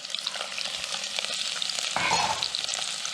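Onion and carrot frying in hot oil in a medium saucepan, a dense, steady sizzle that swells louder partway through as the vegetables hit or get stirred, with no voices.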